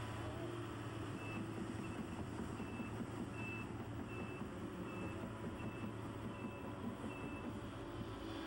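Repeated reversing beeps from a log truck unloading in a forest, sounding as regular evenly spaced tones over a steady loud engine rumble with no talk.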